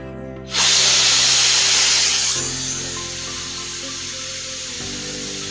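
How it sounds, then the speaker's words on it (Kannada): Pressure cooker whistle while mushroom biryani cooks: a loud hissing steam blast bursts in after a brief quiet start, then settles to a steadier, softer hiss alongside a low tonal hum. "ಇವಾಗ 3 ವಿಷಲ್ ಆಯ್ತು."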